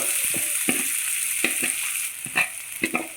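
Chopped spinach stalks sauté in hot coconut oil with mustard seeds for a cheera thoran, a steady close sizzle broken by rhythmic spatula scrapes and taps roughly every half second, with no one talking.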